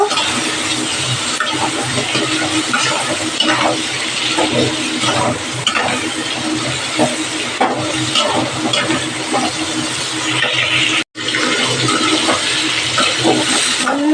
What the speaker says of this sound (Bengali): এবার একটু সবজিগুলো ভেজে নেব